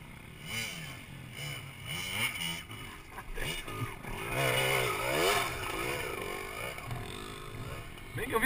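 A motorcycle on muddy trails and hills drones and revs up and down, its engine note rising and falling over several seconds, with voices talking over it.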